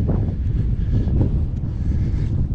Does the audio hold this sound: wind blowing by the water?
yes